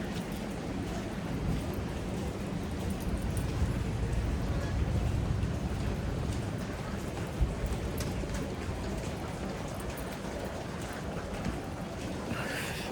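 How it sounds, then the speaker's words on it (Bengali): Steady rain falls, a dense wash of patter continuing without pause at an even level. "বৃষ্টি পড়তেছে টিপ টিপ টিপ টিপ"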